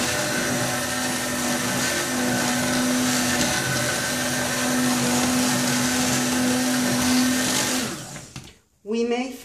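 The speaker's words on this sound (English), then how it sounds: "We keep mixing the oils and the lye solution till we get" Oils and lye solution being blended for hot-process green tea soap, a loud steady motor whir running continuously for about eight seconds before cutting out, then a brief restart.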